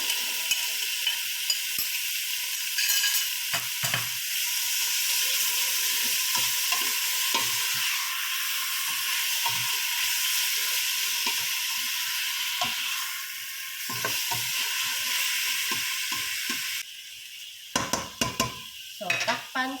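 Meat frying in a pan for pinakbet, a loud continuous sizzle with occasional scrapes and clinks of a utensil stirring, then a quieter stretch near the end with a few clatters.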